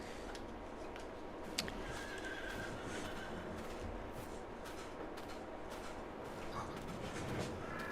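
A horse whinnies in the Farming Simulator 22 video game, a brief neigh heard faintly over a constant wash of outdoor farm ambience.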